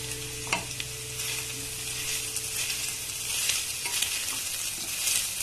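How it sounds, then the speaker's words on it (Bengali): Grated coconut lightly frying in a pan with a little turmeric and salt makes a steady, close hiss and sizzle, broken by a few spatula scrapes and stirring strokes. "এবার এর মধ্যে দিয়ে দেব কোড়ানো নারকেলটাকেও হালকা ফ্রাই করে নেব"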